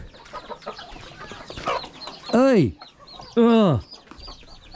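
Rhode Island Red chickens on a farm in the Philippines cluck and squawk close by, with two loud, drawn-out rooster calls standing out, while a person speaks briefly.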